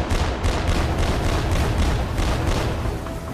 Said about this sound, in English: Now that the 30mm guns are zeroed in, they unleash their final rounds.